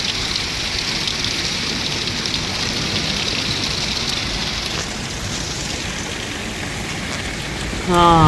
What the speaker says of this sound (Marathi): मुसळधार पाऊस आहे, मुसळधार.